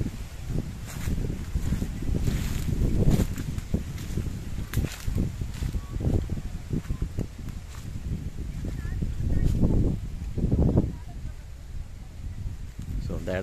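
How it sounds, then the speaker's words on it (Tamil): Wind rustles through mango trees in a garden, with gusty low roaring surges and buffeting against the microphone that rise and fall continuously, strongest around a few peaks. "அந்த மாமரத்துக்குள்ள பார்த்தீங்கன்னா அந்த சத்தம், அந்த காற்றோட சத்தத்தை கேளுங்க, எவ்வளோ அருமையாக இருக்குது"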